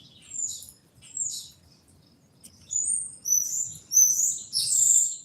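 A wild bird calling outdoors, several sharp high-pitched chirps in short bursts that grow denser toward the end, fairly close, with faint low rumbling in the background.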